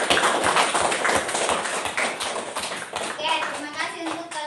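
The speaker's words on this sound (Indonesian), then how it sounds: "Tepuk tangan untuk kita semua." Schoolchildren in a classroom clapping their hands together, quick uneven claps close by that thin out toward the end, with children's voices chattering over them.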